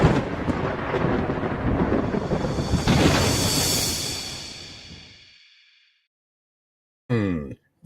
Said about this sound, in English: Thunder and lightning, just what's happening outside right now here in Chicago